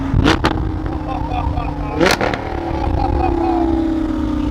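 A car engine revs outside at a Father's Day car show, two sharp loud throttle blips over a steady idle, with people talking nearby.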